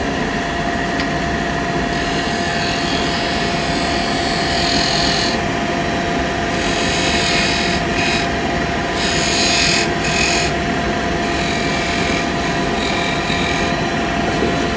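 A spindle gouge cuts a basket weave bud vase turning on a wood lathe, a continuous close rasping scrape over the lathe's hum, swelling in intensity with each pass of the tool.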